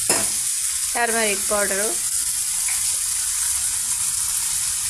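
Tomato and okra fry over a medium flame in a pan, giving a continuous sizzle with some stirring. A voice briefly speaks over it early on.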